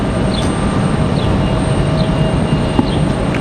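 A Delta Airbus A319 airliner moving at Raleigh-Durham airport, a steady loud roar of jet engines with a faint whine, continuous and fairly close without voices.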